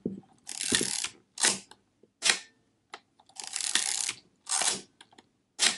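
A Fuji GS645W medium format film camera's shutter fires at a 15th of a second with sharp mechanical clicks, mixed with several short whirring, ratcheting bursts separated by brief silences.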